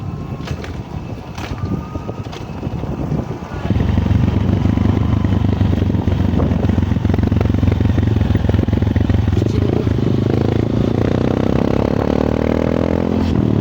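A motorcycle engine starts up close after a few seconds of clatter, then holds a loud, steady droning rumble with wind buffeting the microphone.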